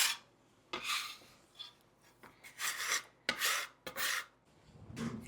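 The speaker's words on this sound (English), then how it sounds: "I just take my scraper and I just clean it up." A scraper rasps across a cutting board after biscuit dough is made, several short, close, scratchy strokes in quick bursts with brief pauses between them.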